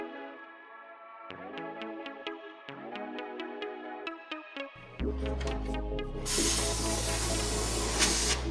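Musical tones play at first, then a steady loud aerosol hiss starts and continues close up, a spray can applying undercoating to a 2009 Honda CR-V.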